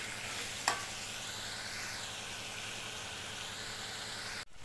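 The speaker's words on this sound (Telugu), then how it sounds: "దొండకాయ ముక్కలు మధ్య మధ్యలో ఇలా కలుపుతూ బాగా వేసుకోవాలి" Ivy gourd pieces fry in ghee on a medium flame, giving a continuous even hiss and sizzle with a single sharp stirring clink early on and a brief break near the end.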